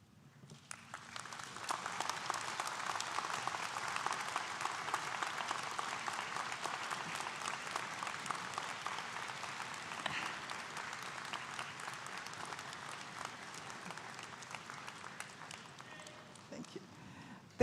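A graduation convocation audience, engineering college ceremony, bursts into sustained broad applause, swelling within the first two seconds and holding a dense, steady clatter of many hands across the hall before tapering slightly near the end.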